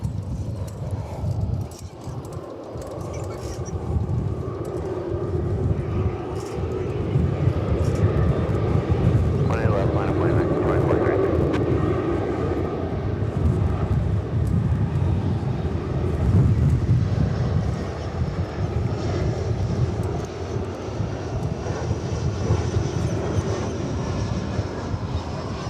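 An American Airlines jet takes off from runway 18 left at DFW airport. A loud, continuous engine roar and rumble holds throughout and swells slightly in the middle.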